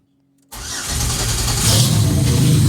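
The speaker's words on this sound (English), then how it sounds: "let's go ahead and see if she'll fire up" A turbocharged 3900 engine in a Pontiac Fiero cranks and fires after silence, catching at once and settling into a loud, steady, slightly rising idle.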